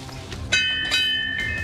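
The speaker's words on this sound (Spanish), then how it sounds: "Acá hay una campana." A bell at an olive grove is struck twice in quick succession, each ring sustaining a bright metallic tone over a low background rumble.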